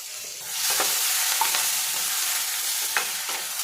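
Tomato, ginger and turmeric frying in oil for a dal, a close, even sizzle with a few light spoon knocks as the mixture is stirred.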